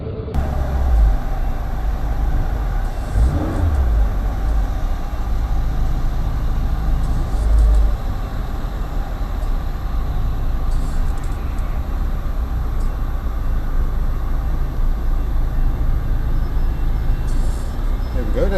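Steady engine rumble of a car rolling along, with a couple of low bumps as it drives off a ferry ramp, and talk over the noise.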